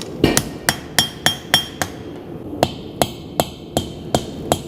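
Hammer blows ringing on a steel knife blade at the forge during bladesmithing, a steady series of about a dozen sharp, bright metallic strikes, loud and close, with a brief pause midway.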